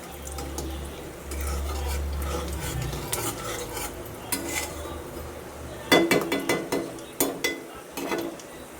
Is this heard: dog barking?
no